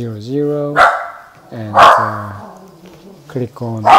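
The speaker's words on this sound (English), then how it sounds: "please excuse my dog" A dog barks indoors in short loud bursts, about four barks spread across a few seconds, over someone talking steadily in the room.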